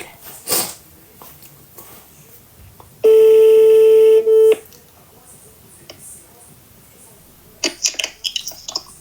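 A telephone dialing tone plays during a live stream call, a loud steady tone lasting about a second and a half, surrounded by faint room noise and scattered brief sounds.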